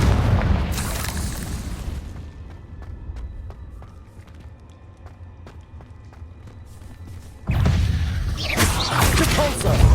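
Confringo fire spell blasts in Hogwarts Legacy, heavy booming explosions with rumbling bursts at the start and again near the end, separated by a quieter stretch of crackling combat debris and small impacts.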